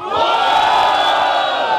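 A crowd at a freestyle rap battle roda in São Gonçalo cheers and shouts loudly and steadily, a dense continuous roar of voices with whoops.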